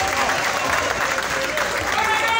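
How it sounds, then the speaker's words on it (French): Steady applause from an audience after a speech, a dense, even patter of many hands clapping at moderate distance throughout, with no talking over it. "Applaudissons très très fort."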